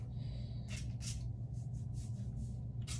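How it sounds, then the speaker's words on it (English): A spray bottle gives several soft, brief hisses of mist, rice water sprayed onto hair, faint against a low steady background hum. "Just spray a little bit."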